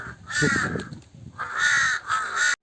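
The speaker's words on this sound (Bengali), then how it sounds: "এই যে বড় কাক সে ভাবতেছে আমি এই কাকের বাচ্চা নিয়ে যাই" A large crow caws near a broken nest, giving three loud, harsh bursts close by in the open air, with no talk.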